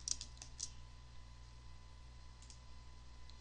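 Quiet clicks of typing on a computer keyboard: a quick burst of a few keystrokes, then a pause and a couple more taps over a faint hiss.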